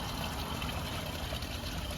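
Waste from an RV tank, two weeks of boondocking, drains through a sewer hose in a continuous, even rushing gush at close range with no pauses.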